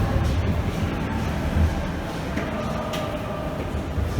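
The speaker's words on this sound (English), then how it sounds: "I'm in the Duomo train station in Milan." A subway train rumbles through Duomo station in Milan, low mechanical drone with rattling and clatter, loud and steady for a few seconds.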